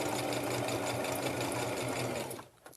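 Up close, a sewing machine hums and clatters steadily as it stitches down the edge of a fleece hat, then stops near the end of the short run.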